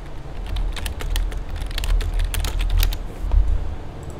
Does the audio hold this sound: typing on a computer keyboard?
yes